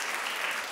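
Studio audience at a daytime television talk show clapping together, a dense steady wash of applause filling the short moment with no break.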